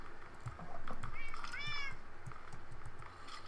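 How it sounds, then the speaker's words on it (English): A cat meows in the Minecraft video game, two rising and falling calls in quick succession under a soft background of game sounds and faint talk. "There's a cat on the roof."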